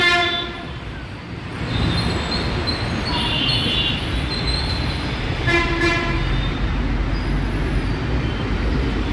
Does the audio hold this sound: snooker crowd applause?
no